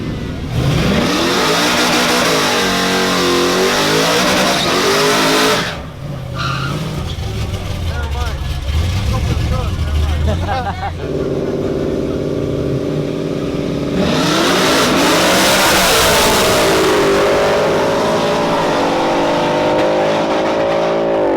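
Ford and Chevy single-cab trucks in a grudge-match drag race, engines revving loud and near with rising and falling pitch sweeps, a brief dip mid-run, then another roaring acceleration, with voices mixed in.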